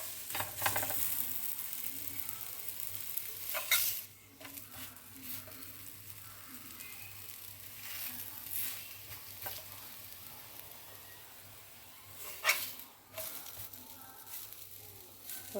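Adai batter cooking on a hot pan gives a soft, continuous sizzle, with occasional scraping and louder bursts as it is turned; close and fairly quiet, without talk.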